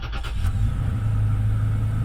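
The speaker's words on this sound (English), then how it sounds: "And now we'll come into the truck, start it up" Toyota Tacoma truck engine just after a battery replacement, steady low idle rumble running throughout at moderate level after a brief start at the beginning, no voices.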